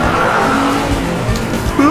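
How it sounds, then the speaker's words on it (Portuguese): A fast car in GTA 5 roars along at high speed, its tires skidding and squealing near the end, loud and continuous throughout with no talking over it. "Eu nunca dirigi um carro tão rápido como esse!"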